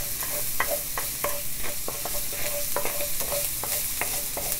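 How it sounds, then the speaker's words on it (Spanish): Chopped garlic sautés in a pan for chicken tallarín saltado: a steady soft sizzle sits under a quick, regular series of scraping and tapping utensil strokes, close and moderately quiet, with no speech. "Vamos a sofreír esto bien."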